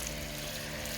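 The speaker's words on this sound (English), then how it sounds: "So water our sweet potatoes." Water pours onto sweet potato plants growing in pots, a steady, close splashing and trickling with no voices over it.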